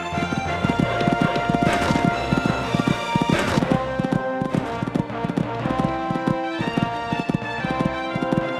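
Hoofbeats of a horse galloping over a cross-country course at the Sydney Horse Trials, a steady rhythmic thudding of clip-clop strikes, fairly close and continuous, with faint crowd ambience behind.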